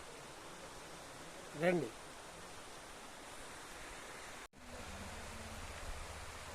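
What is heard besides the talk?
waterfall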